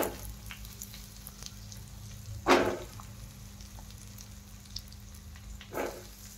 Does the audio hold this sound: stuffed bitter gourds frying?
yes